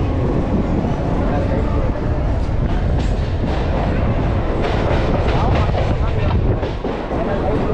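A Chennai suburban MEMU electric train pulls into Park station, heard from on board as a dense continuous rumble with rhythmic wheel clatter under occasional talk.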